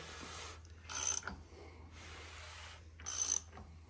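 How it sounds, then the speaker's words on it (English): A wrench on a connecting rod bolt clicks in two short ratcheting bursts during the final check of a 318 Magnum short block, quiet and close in a still room, with no talk. "put the wrench back on the bolt and do your final check"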